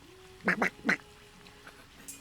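Three quick nasal quacks from a duck sound nearby in a quiet outdoor setting, followed by faint background noise.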